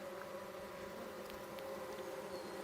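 Honeybees buzz steadily and densely around open swarmed hives during a July hive inspection, a close, continuous insect hum with no talk.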